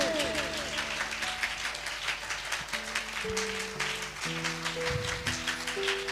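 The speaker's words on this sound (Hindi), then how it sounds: "पीछे सभी ताली बजाएं जोर से।" A church congregation claps along during a Hindi worship service, steady rhythmic clapping running throughout beneath music with sustained keyboard tones.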